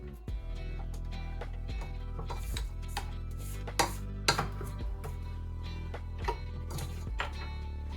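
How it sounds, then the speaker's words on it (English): A spatula scrapes down a mixing bowl of lemon quick bread batter, giving scattered soft scrapes and knocks against the bowl over a steady tonal background hum. "I'm going to scrape down the bowl"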